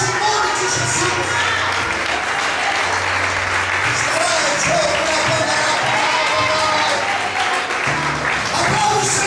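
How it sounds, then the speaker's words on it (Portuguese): A church congregation at an evening service applauds in a loud, sustained wave of clapping and cheering that fills the room without pause, while a voice carries on over it. "aplauda a Deus nessa noite"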